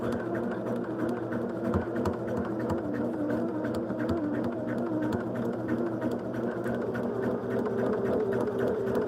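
A sewing machine runs continuously as it stitches quilt block seams, giving a steady, fast mechanical chatter with a low motor drone. It is close and even throughout, with no talking.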